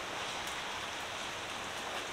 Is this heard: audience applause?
no